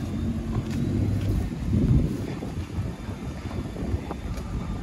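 A vehicle approaches up a road outdoors, its steady low rumble building slightly and then easing, somewhat distant and mixed with wind noise.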